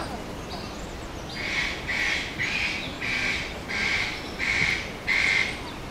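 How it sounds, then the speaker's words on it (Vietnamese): Birds squawk and call in a run of about seven evenly spaced bursts inside an aviary, with the steady babble of an artificial stream running beneath them. "Âm thanh của suối róc rách, của tiếng chim."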